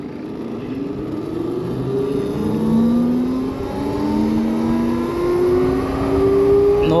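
An Ola Roadster X 3.5kWh electric motorcycle accelerates toward top speed in normal mode, its motor whine climbing steadily in pitch over loud, constant wind rush.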